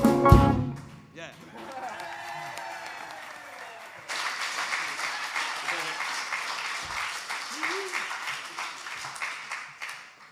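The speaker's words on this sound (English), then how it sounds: "Thanks, y'all, for clapping." Applause from a church service congregation after a worship song, a sustained wash of clapping that fades briefly, then swells again, with a voice speaking near the start.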